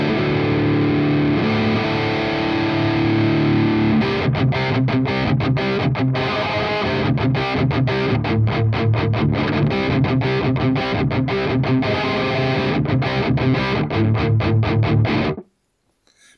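Crunchy, overdriven electric guitar through a plexi amp tone, playing a riff of chords and muted chugs, loud and up front, ending abruptly in silence.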